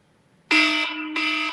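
A loud, harsh electronic radar alarm tone blares in two bursts, a steady buzzing pulse that restarts after a brief dip, close and alone.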